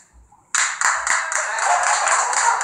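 A television studio audience bursts into applause after a brief quiet moment, the clapping starting abruptly and continuing as a dense, steady, fairly loud patter.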